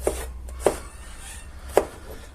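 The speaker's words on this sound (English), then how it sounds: "we'll also chop it up in this size" Garlic chopped with a knife on a board for meatballs, three crisp separate knocks spaced irregularly over a low quiet hum.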